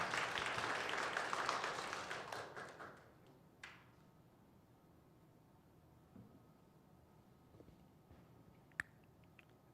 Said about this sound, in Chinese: 我们拍手来欢迎